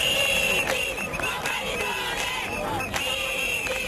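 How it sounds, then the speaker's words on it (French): A vast crowd at a Senegalese political rally at Place de la Nation fills the air with steady, dense hubbub and scattered cheers, a continuous wash of many voices with occasional louder rises. "La foule est immense, l'accueil exceptionnel à la place de la nation"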